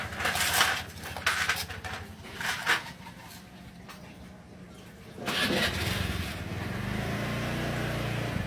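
A Honda Scoopy motorcycle, freshly checked for a working ECU with the spark plug cap refitted, cranks with several starter bursts before the engine catches and settles into a steady close idle.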